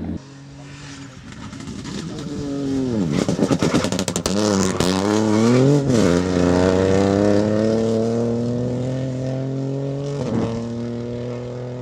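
Porsche rally car racing at the Ypres Rally, its engine note climbing through rapid gear changes with crackling, then settling into a loud sustained high-revving drone, close by.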